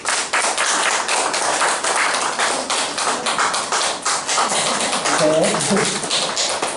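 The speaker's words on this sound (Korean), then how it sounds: "우리 박수로 환영했습니다." A church congregation claps continuously to welcome a new catechumen during a Korean Presbyterian service. The quick, steady patter of hands carries throughout, and a voice speaks briefly near the end.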